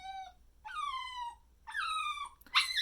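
A puppy whines in high-pitched, drawn-out cries, three separate whimpers with pauses between, rising into a sharp squeal at the end.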